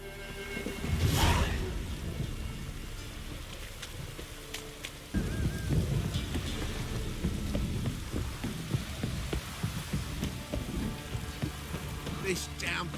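Heavy downpour hisses steadily in The Witcher 3 game world, a broad wash of rain on surfaces with occasional whooshes and low rumbles, continuing without talk for over ten seconds.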